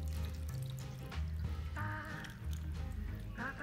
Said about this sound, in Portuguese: E agora eu vou acrescentar 3 quartos de xícara de água fervente.